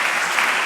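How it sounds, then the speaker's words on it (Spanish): Applause from an audience at a One Health national congress oral session, a steady dense wash of clapping filling the whole short moment at even loudness, with no voices over it. "Muy bien, pues un fuerte aplauso, Vladimir."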